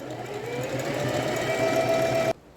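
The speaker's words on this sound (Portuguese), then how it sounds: "Agora, eu já posso passar a costura. Vou começar aqui passando a costura, não dá retrocesso." A domestic sewing machine runs a steady straight seam along a gathered skirt, a continuous close whir for about two seconds that then stops abruptly, leaving near silence.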